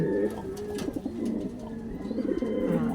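Pigeons coo continuously up close, their low, bubbling calls overlapping in a steady rolling murmur with faint clicks in the background.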